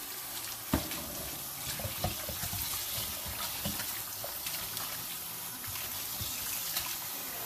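A kitchen tap runs steadily into a sink as raw oxtail is washed under it, a continuous close rush of water broken by irregular splashes and knocks from the meat being handled.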